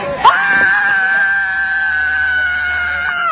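A single loud, sustained scream from one person, high and held for about three seconds after a brief sharp onset, close to the microphone.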